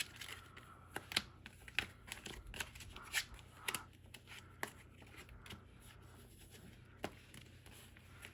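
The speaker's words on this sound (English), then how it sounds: "I'll go ahead and organize my little extra deck here." Yu-Gi-Oh trading cards are handled and sorted into an extra deck, with quiet, close snaps, taps and slides of card stock coming in scattered bursts over a faint background.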